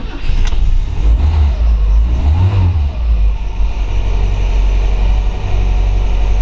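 A 1961 Mercedes-Benz 190SL roadster's engine runs loud and close, revving up and settling back in uneven surges over a constant low rumble, with no voices.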